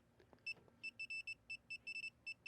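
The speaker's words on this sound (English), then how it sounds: "You see how much faster that's beeping?" Rapid electronic beeps from a circuit breaker finder chirp in quick, closely spaced bursts, a high clear tone repeating faster and faster, up close with only faint background hum.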